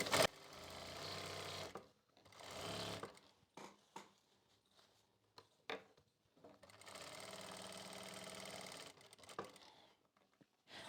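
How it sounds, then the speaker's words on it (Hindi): A sewing machine stitches a sari belt with buckram and elastic, running in several short, close bursts of rapid mechanical chatter separated by quiet pauses. "यहां से ऐसे सिलाई को लगाना है।"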